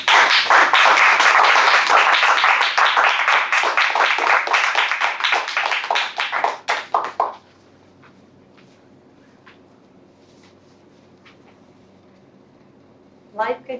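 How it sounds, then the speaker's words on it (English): Audience applause at a Toastmasters meeting: loud, dense clapping fills the first seven seconds, then fades out abruptly, leaving quiet room tone with a few faint taps before a voice starts at the end. "give her a big round of applause"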